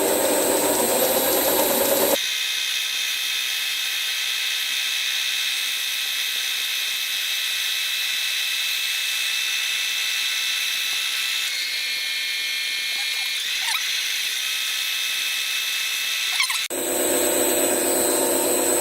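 A 1940s Excel lathe takes a very light skim cut, making a steady, even mechanical whir that lasts about fifteen seconds. It is close and fairly loud, with louder, brighter machine noise at the start and end.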